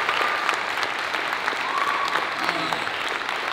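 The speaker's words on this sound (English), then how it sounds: "Another round of applause for Michael Bennett." Close, dense audience applause for author Michael Bennett at an author talk, a steady wash of many hands clapping throughout.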